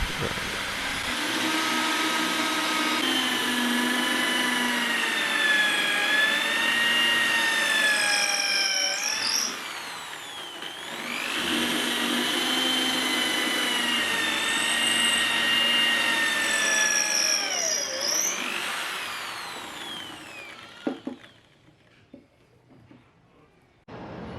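A Doliz BA 670 electric impact drill, fitted in a homemade drill stand, runs with a loud, high whine in two long bursts, each swelling and easing off in pitch, and then winds down and goes quiet.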